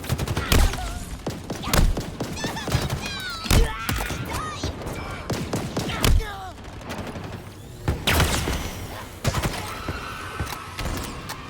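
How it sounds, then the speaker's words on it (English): A Jackal Major fires its weapon in Halo Infinite amid repeated sharp energy shots and heavy thuds, bursts of gunfire with zipping tones, close and loud, with occasional talk over the action. "So that's a Jackal Major firing his weapon"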